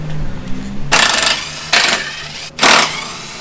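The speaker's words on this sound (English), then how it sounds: "We're gonna start with the T40 Torx to remove the rear cover." A T40 Torx driver working the fasteners loose on the rear cover of a Polaris RZR Turbo S, heard as three short bursts of ratcheting, gritty tool noise up close, separated by brief pauses.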